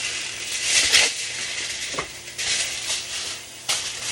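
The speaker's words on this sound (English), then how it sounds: "we're going to put some aluminum foil on it and let that cook" Aluminum foil is crinkled and pressed over a pot roast, producing close crackling and rustling bursts with a few sharper crinkles, and no talk.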